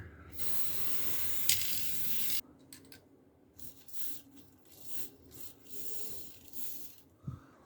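A spray can of varnish hisses steadily for about two seconds onto a helmet, then stops, followed by quiet rubbing and handling noises nearby.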